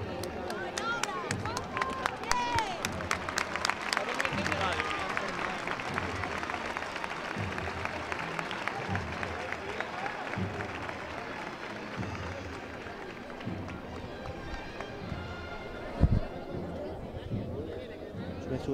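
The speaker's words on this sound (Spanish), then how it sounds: "ante los aplausos de las decenas de personas congregadas" Dozens of people gathered in a plaza in Antequera clap for a Holy Week procession float on Holy Tuesday, with sustained applause mixed with crowd chatter and nearby voices, sharper clapping early that eases later, and one loud thump near the end.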